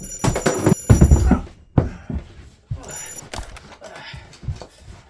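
Telephone ringing in a fishing video game, a bright electronic bell trilling in two bursts amid thumps and game sounds.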